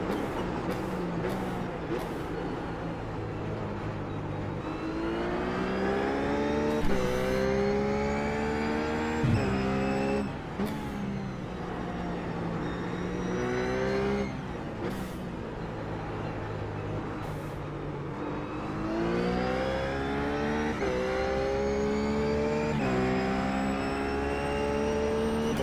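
A RUF race car laps the Zandvoort circuit in iRacing, its engine note climbing repeatedly through gears in rising sweeps and dropping on downshifts, with brief clicks over the continuous moderate engine drone.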